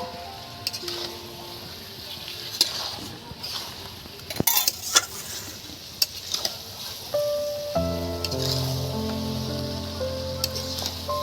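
Fried potatoes stirred into chicken curry in a pan, with scraping and clattering of a utensil against the metal and a light sizzle rising in the second half; no talking.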